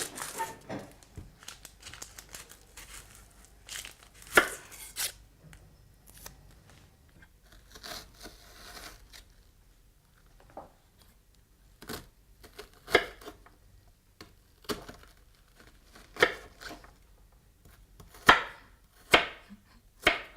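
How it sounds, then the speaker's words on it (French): A knife dicing fennel, carrot and courgette into small cubes on a cutting board, with crisp chopping taps in irregular bursts and pauses, close and fairly quiet, with no talking. "On coupera également en petits dés le fenouil, la carotte et la courgette."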